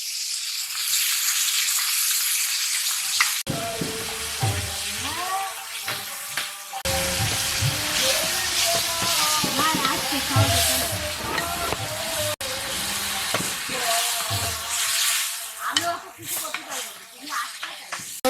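Chillies and tomato sizzle and crackle in a pan with fried okra in a village kitchen, loud bursts of frying interrupted by a few abrupt cuts, with a person talking at times.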